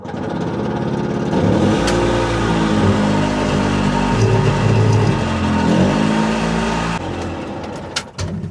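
A barn-find Italian micro van with a four-speed gearbox and a stuck clutch, parked for twenty years, runs with a steady close engine drone that rises and falls with revving before cutting off near the end.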